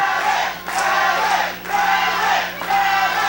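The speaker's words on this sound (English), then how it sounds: "Hey, listen to this crowd." A wrestling crowd at a CWF Mid-Atlantic heavyweight championship match roars steadily in swelling waves, with cheers rising and dipping about once a second over a constant dense wash of voices.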